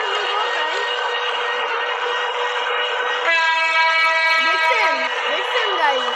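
A train in the Train Simulator Bangladesh video game rolls along with a steady, loud mechanical rumble, and a sustained horn blast sounds partway through and holds for a couple of seconds.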